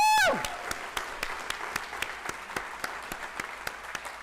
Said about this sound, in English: that doesn't mean we can't clap for her